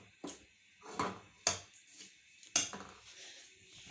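Coconut roasting in oil is stirred in a pan, giving several separate scrapes and knocks of a spoon against the metal with quiet pauses between strokes and little audible frying.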